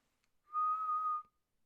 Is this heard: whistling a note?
yes